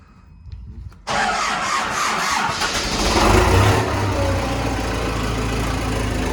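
An engine cranks and catches after about a second, then settles into a loud, steady idle that swells briefly and runs on close by.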